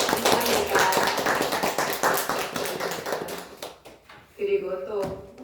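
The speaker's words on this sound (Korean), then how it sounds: "박수로 부탁드립니다." Church congregation applauds during a Korean New Year's Eve worship service, a dense patter of hand claps that fades after a few seconds before a voice speaks over the quieter room.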